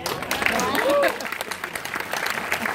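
Applause from an audience at a question-and-answer session with an actor, a brief burst of clapping mixed with crowd noise and voices.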